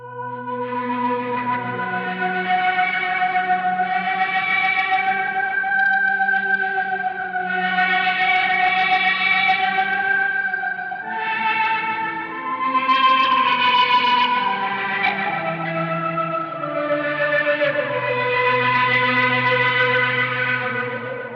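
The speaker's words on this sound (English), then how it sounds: "I'm just going to push this over to our ice setting, which is a pitch shifted setting" An electric guitar runs through an Analog Alien Rumble Seat pedal on its pitch-shifted ice setting, giving shimmering, reverberant chords with octave-up overtones that swell and overlap without a break, with no talking.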